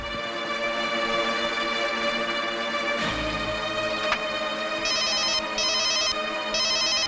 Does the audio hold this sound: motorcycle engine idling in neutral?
no